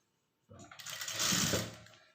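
Blouse pieces pass under a sewing machine that starts from silence and whirs steadily for under two seconds, close and moderately loud, building slightly as it runs, with no one talking.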